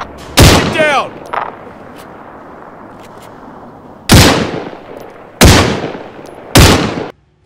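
Heavy gunfire in a firefight with al Shabaab fighters, sharp loud shots: one early with a voice shouting, then three powerful reports spaced about a second apart later, each ringing out over a quiet background.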